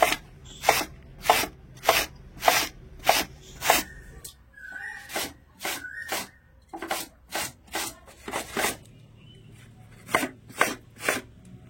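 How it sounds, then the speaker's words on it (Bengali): Raw green mango grated by hand into long strips: steady rhythmic rasping strokes, close and fairly quiet, in regular runs with a short pause in between. "আর চেষ্টা করতে হবে এরকম একটু লম্বা লম্বা করে গ্রেট করার"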